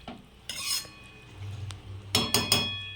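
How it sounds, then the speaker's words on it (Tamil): Chana dal is stirred into a pot of snake gourd kootu. A spoon clinks and scrapes against the metal pot in two short bursts, the second a quick run of three knocks, between quiet pauses. "கடலைப்பருப்பு நல்லா கொட்டிட்டு ஒரு கிளறிட்டு திருப்பி கொஞ்சம் நேரம் வேகட்டும்"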